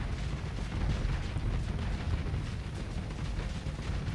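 A space battle explosion in the Starsector video game, a loud, sustained rumbling boom with dense low-end crackle filling the whole stretch, no voices.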